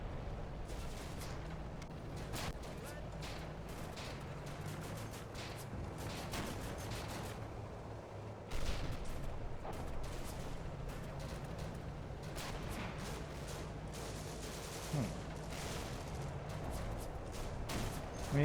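Distant, steady gunfire and shell bursts rattle across a World War II desert battle in Combat Mission: Afrika Korps, with sporadic shots and rumbling explosions continuing under a dull background roar.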